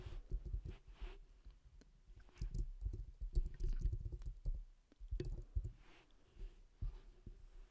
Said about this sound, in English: You're going to hear clicking sounds because I'm on my computer.